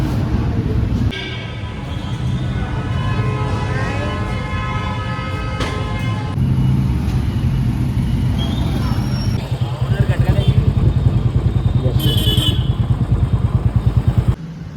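A motorcycle started and ridden out of a cinema parking area, with a steady engine drone and shifting revs up close, while people talk over it and a horn toots briefly near the end.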